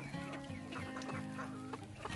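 Chickens in a coop at a Turkish village garden cluck busily and continuously up close, with overlapping short calls and rustling feeding noises filling the space.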